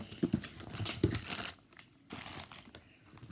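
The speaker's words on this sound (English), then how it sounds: "I'm going to unbox something." Crinkling and tearing of packaging, a few sharp rips up close followed by quieter rustling and handling noises.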